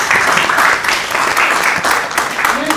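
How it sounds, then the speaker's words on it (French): Indoor audience applauding a guest's entrance into a workshop room, a steady dense wash of clapping filling the space for the whole stretch without a break. "Je vous demande d'applaudir son entrée dans la salle."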